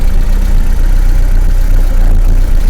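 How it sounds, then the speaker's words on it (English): A 1991 BMW 318i (E30) engine idles loudly and steadily, with rough, constant valve clatter running underneath the rumble. "it also has a great deal of valve clatter"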